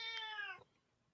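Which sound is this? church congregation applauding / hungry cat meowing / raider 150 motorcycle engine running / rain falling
hungry cat meowing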